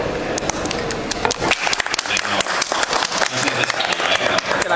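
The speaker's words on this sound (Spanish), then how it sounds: "Un fuerte aplauso, por favor." An audience at a fan conference during a Godzilla weekend event applauds at the opening of a talk, a crowd of uneven, sharp claps that build up and carry on, with some voices mixed in.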